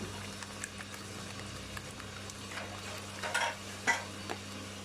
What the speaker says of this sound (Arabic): ندير فلفل ابيض ونخلط الخليط تاعنا